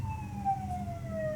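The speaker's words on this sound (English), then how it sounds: "You all hear, A siren." A distant emergency siren wails in a slow falling sweep, faint and steady over a low rumbling background, heard alone with no talk.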